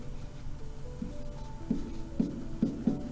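Chalk or marker writing on a board during a math lesson, a run of soft scratchy strokes with a few firmer taps near the end, close and fairly quiet with no talk over it.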